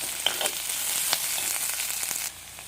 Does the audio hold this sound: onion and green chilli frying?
yes